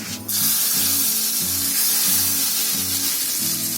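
Hot oil tempered with mustard seeds is poured into a chutney, setting off a loud, close, steady sizzle and spitting hiss that holds throughout with no talking.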